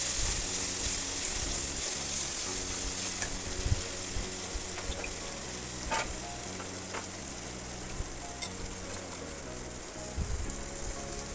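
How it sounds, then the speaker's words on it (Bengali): Spice paste (masala) for a chickpea dish fries in a pan with a steady, dense sizzle and occasional light stirring scrapes, heard alone and fairly close throughout. "এই মশলাটা কিছুক্ষণ কষিয়ে নেব।"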